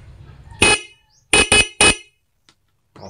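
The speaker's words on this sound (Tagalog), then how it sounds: "dapat kapag pinindot ko to, tutunog yung ating stock horn" A car's stock horn gives four short, loud beeps, one single and then a quick trio, each blast separated by brief silence.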